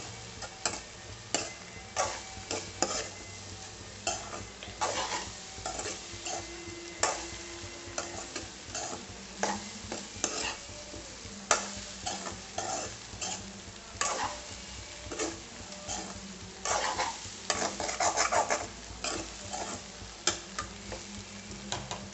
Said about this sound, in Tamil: முட்டையை சேர்த்து இந்த மாதிரி நல்லா கலந்து விடுங்க.